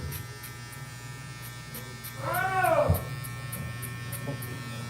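A Saber 2 hair clipper fitted with an Echo Crunch blade buzzes steadily and close by during a fade haircut, with a brief swell in pitch and loudness partway through.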